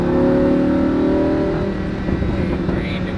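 A Lamborghini Huracan race car engine revs and pulls hard on track, a loud close droning roar that settles and drops in pitch toward the end.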